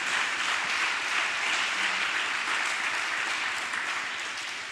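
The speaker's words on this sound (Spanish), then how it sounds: "¿Cuánto da un aplauso al Señor por esta casa tan hermosa y tan maravillosa?" A church congregation applauds together in a steady, sustained wash of clapping that holds evenly at moderate loudness for several seconds, with no voices over it.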